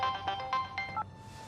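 A mobile phone ringtone plays a short, bright electronic melody of repeated tonal notes, loud and close, stopping after about a second with no voices over it.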